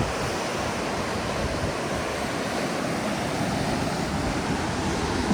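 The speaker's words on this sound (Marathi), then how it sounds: "मस्तपैकी लाटा अशा या अशा दगडांवरती आदळतात" Sea waves crash onto the rocks of the Konkan coast at sunset in the rainy season, giving a loud, steady roar of surf with no break and no voices.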